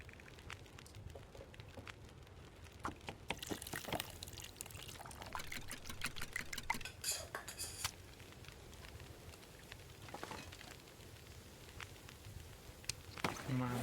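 Water boils while cooking in The Long Dark, heard as a faint, continuous bubbling and trickling wash mixed with soft crackles and scattered clicks, low in level throughout.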